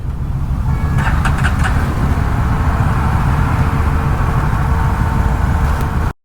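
Evening road traffic on the way toward Saket, recorded from a Yazdi Roadster motorcycle ride, makes a loud, continuous rumble of passing cars and engines, with a short cluster of honks early on before an abrupt cutoff.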